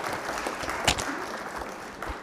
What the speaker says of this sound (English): Can you have a round of applause for him, ladies and gentlemen?